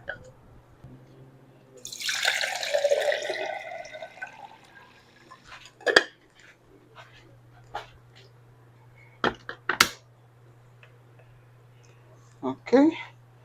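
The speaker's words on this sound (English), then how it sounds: "I need to add water in here." Water is poured into the water tank of a Nespresso Vertuo Pop+ coffee machine in a steady splashing stream lasting a couple of seconds, followed by scattered clicks and knocks of handling the tank.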